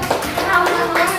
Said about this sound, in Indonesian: Beri tepuk tangan untuk temannya yang maju